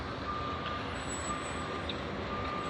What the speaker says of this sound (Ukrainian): Це евакуатор з фірми, де я працюю.